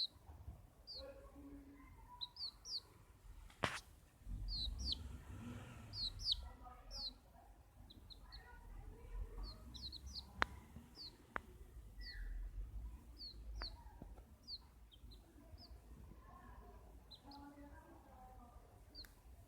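Baby chicks chirping in short, high peeps scattered steadily throughout while being bathed, close by, with occasional handling thumps and a few sharp clicks.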